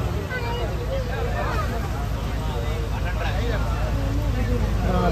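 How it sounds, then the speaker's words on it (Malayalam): A passenger boat on the Alappuzha–Kottayam backwater route approaches on the water, its steady engine drone close and loud under continuous crowd chatter and talking aboard. "നമ്മുടെ ഓപ്പോസിറ്റ് വേറൊരു ബോട്ട് വരുന്നുണ്ട് കേട്ടോ."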